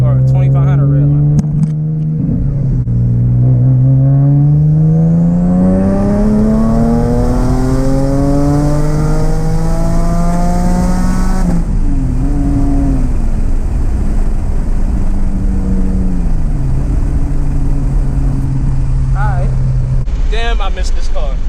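A car engine pulls hard through one gear, its pitch climbing steadily toward a high scream before a brief dip and another long rising run.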